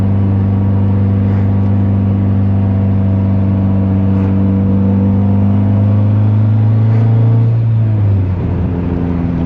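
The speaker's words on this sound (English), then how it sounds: "You can actually tell that this thing has a turbo on it with this one." A turbocharged Honda Civic engine, fitted with a bigger turbo on a budget build, holds a loud, steady droning rev close by. Its pitch shifts and drops off near the end.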